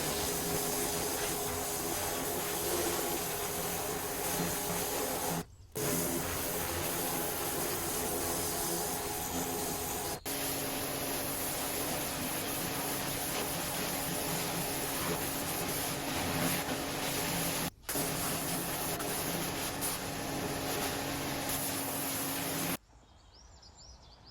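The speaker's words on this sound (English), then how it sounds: "Although the pressure washer worked well to get rid of the very loose areas, there is still plenty of crumbling paint to get rid of" A pressure washer stripping loose, crumbling paint off the wall of an old brick workshop, a loud continuous hiss and spray that stops only for brief moments and then cuts off at the end.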